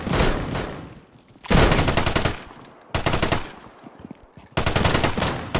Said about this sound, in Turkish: Pompalı ağzıma vurdu.